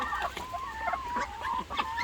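Chickens cluck and a duck calls on a farm, with several birds overlapping in a busy, close chatter of short repeated calls.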